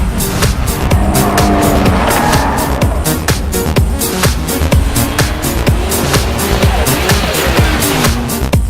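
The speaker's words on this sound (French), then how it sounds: "Quant au bruit délivré par l'échappement titane, il est tout simplement monstrueux." A Nissan Skyline R34 Nismo Z Tune with a titanium exhaust driven hard on a mountain road, its engine roaring loud and close with rapid gear changes and tire squeal throughout.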